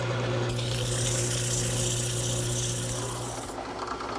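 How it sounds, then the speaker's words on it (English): A turned wooden table leg being sanded with 150 grit sandpaper, a steady close rasping rub lasting a few seconds under a constant low machine hum. "a few minutes with some 150 grit sandpaper, doing the final sanding to smooth out all of the turning"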